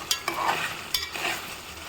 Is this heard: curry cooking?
yes